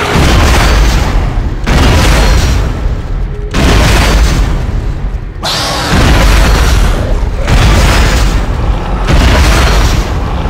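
Force gun firing in the horror shooter Dead Space, a series of loud, deep concussive blasts in regular succession, each boom swelling and decaying before the next shot.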